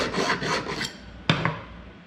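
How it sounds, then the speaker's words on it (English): Hand file rasping the inside of a metal casting during cleanup, several close rhythmic scraping strokes followed by a couple of sharp metallic taps. "Now I need to file the inside."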